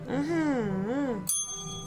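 A small hand bell rings once with a bright, clear strike during a tarot card reading. It follows a woman's drawn-out speaking voice and then hangs alone, shimmering as it fades.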